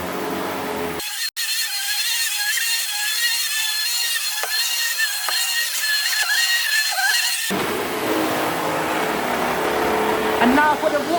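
An Electrolux Harmony Line Glider upright vacuum cleaner switches on and runs with a loud, steady whine and motor roar, close by, with a voice speaking at the end.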